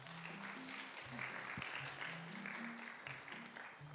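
A church congregation at a young adults' Sunday worship service applauds softly to welcome a bride-to-be to the front, a faint, even patter of clapping with a voice talking over it.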